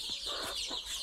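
A desi hen guarding her chicks gives a quick series of soft, close clucks, several short pulses within about a second, with no voices.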